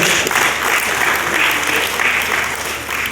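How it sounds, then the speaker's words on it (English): Warm applause from a business growth conference audience for a speaker, a dense, even wash of many hands clapping at close range, loud and sustained throughout the brief stretch. "Another round of applause for him, ladies and gentlemen"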